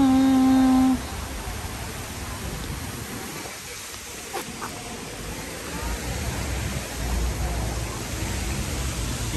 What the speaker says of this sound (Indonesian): Hujan-hujan kita tempuh juga.